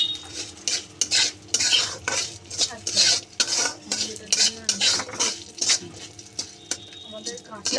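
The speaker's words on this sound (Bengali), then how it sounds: "এইবার আমি একটু পোস্ত দিয়ে দেবো 2 চামচ। পোস্তটাও হালকা করে একটু ভেজে নেব।" Cashews and poppy seeds frying lightly in oil while a spoon scrapes and clatters against the pan in quick irregular strokes, a soft sizzle underneath and occasional speech.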